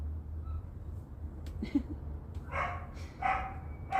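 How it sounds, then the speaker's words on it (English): A dog barks indoors at home, several separate woofs and yips at moderate distance over a quiet low hum. "I'm gonna go while dog's barking away"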